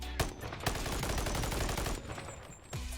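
Rapid automatic fire from a modded rifle in the VR game Bonelab, a dense loud burst of repeated shots running for about two seconds before stopping, then a single clunk near the end.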